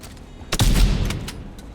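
In Daymare: 1994 Sandcastle, a gunshot aimed at a liquid nitrogen tank gives a loud, close boom that rings out over a second, followed by fainter sharp clicks.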